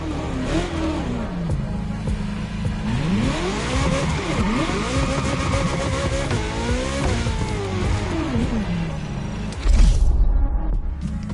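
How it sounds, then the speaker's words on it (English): A Ferrari GTO engine revs loud and close, its pitch climbing and falling through repeated sweeps, with tyres squealing and a sharp burst of rough noise near the end. "The car you're about to drive in this opening event is none other than the first Ferrari in the supercar bloodline, the Ferrari GTO"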